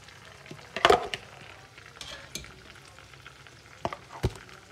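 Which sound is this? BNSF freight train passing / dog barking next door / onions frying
onions frying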